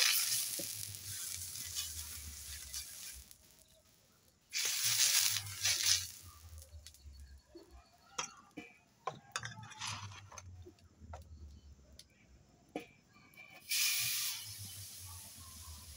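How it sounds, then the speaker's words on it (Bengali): Mustard oil sizzles on a hot griddle as a banana stalk rubs it across the surface: loud bursts of hissing sizzle, then quieter stretches with scattered clicks and scrapes, without any talking. "সরষের তেলটা আমি এই কলা গাছের এই ডেগোটা দিয়ে চাটুতে ঘষে দেব"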